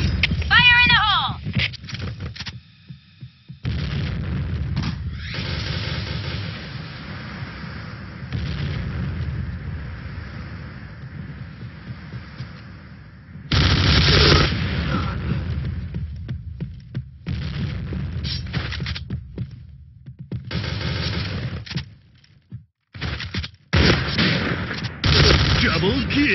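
Grenade blasts and gunfire from the shooter game Point Blank, where a Raging Bull 454 revolver is in use, come as heavy booming bursts and rapid shots, broken by short silent gaps, with voices calling out over the action.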